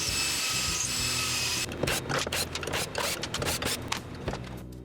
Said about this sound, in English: Using a clamp, I made sure the workpiece stays perpendicular while I drill the screw holes.